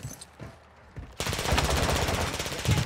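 Rapid automatic gunfire erupts in a shooter video game after a brief quiet lead-in, then holds as a loud, dense rattle of shots until the end.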